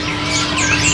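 A tame caged pet bird gives a short burst of bright, close chirps and rising whistled notes, loud and alone for about a second.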